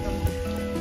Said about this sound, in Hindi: फिलहाल तो यहाँ बर्फ के साथ बारिश हो रही है।